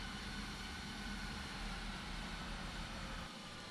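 Aircraft engines in a flight simulator game give a faint, steady low drone with a broad rushing hiss, dipping slightly in the final moment.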